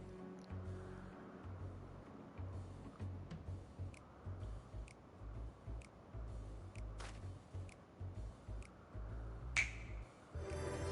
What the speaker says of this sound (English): The finger snap.